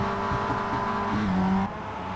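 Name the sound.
Mazda Miata race cars revving engines in iRacing video game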